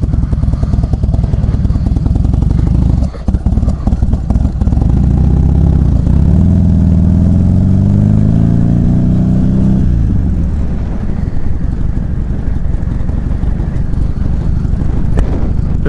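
A motorcycle with a freshly repaired clutch rides along, its engine revving up and falling back loud and close, pulling through the gears with a steady mid-pitched drone.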